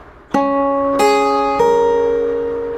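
A single plucked note on the guitar's first string followed by two quick hammered-on notes, each ringing out clearly and sustaining, played alone.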